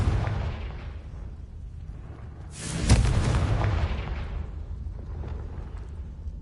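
A Confringo fire spell cast in a Harry Potter video game, setting off a single loud, booming blast that swells up and then rumbles away, with a low continuous background rumble and no talk.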